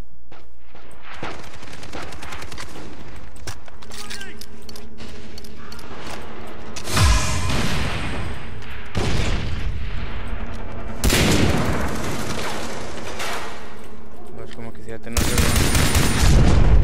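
Bursts of rapid gunfire from Far Cry 3 multiplayer, with heavy volleys and booms breaking out every few seconds over a steady game soundscape.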